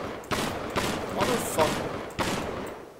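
Bursts of gunfire from the video game Gorebox, four or five loud, spaced volleys crackling close up in quick succession.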